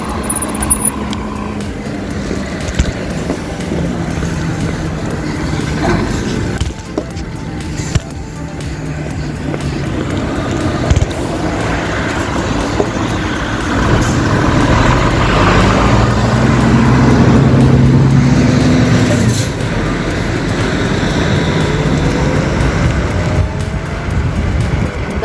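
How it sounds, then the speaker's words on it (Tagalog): Steady road traffic with many cars passing on a Swiss road trip, a continuous loud rumble of tyres and engines with vehicles swelling and fading close by. "Ang dami ng sasakyan."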